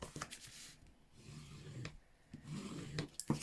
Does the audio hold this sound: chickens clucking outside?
no